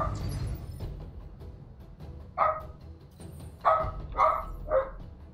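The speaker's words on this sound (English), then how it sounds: "Dog's going nuts." A dog barks four times in quick succession. The barks are moderately loud and sound a little distant indoors, over a low background rumble, with no talking.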